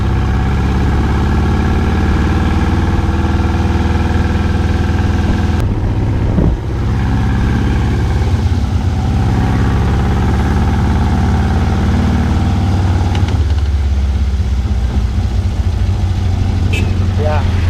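A VW beach buggy with failing brakes drives along, its engine droning loud and steady throughout with a brief dip partway, while a person talks over the noise.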